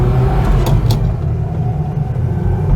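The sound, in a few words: Renault 4 GTL 1108cc engine pulling away from traffic lights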